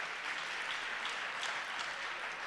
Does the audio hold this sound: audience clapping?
yes